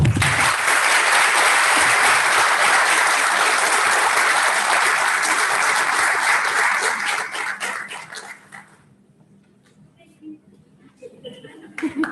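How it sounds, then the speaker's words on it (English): Applause at a high school National Honor Society induction ceremony, loud and dense for about eight seconds, then cutting off to near quiet with faint voices, a dog barking and a few light sounds. "Please join me in applauding all of our new National Honor Society members."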